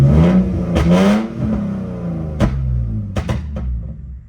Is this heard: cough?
no